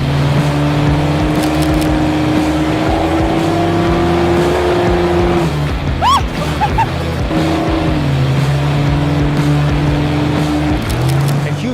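Several trucks rev and accelerate loudly at the Speed Vegas track, engines climbing and dropping in pitch one after another, with a steady roar throughout and a brief higher whine midway.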